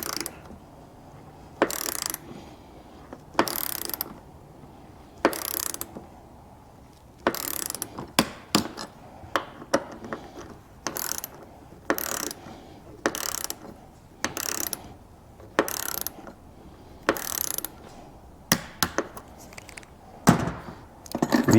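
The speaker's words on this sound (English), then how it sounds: "Readjust my torque wrench" A torque wrench ratchets in repeated short bursts of clicking while bolts are tightened on a Land Cruiser 200 Series roof rack, the clicks coming in irregular clusters with quiet pauses between, no talk.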